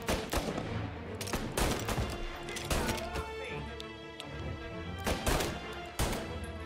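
Gunfire in the Mafia video game: loud sharp shots and bursts repeating irregularly in clusters over a dense game soundscape, prominent and close.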